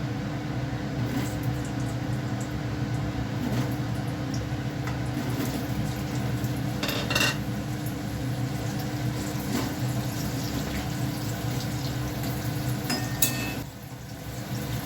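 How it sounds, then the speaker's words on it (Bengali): Steady close sizzling of pumpkin frying in hot oil runs throughout, with a few brief clinks of a utensil and no voices. "তেল গরম হয়ে গেছে, কুমড়োটা দিয়ে দিই।"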